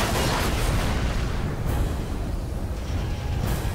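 Dense, roaring bursts of rapid 30-millimeter cannon fire from a Mirage fighter jet in a dogfight rumble continuously, loud and booming, with sharper blasts standing out at moments.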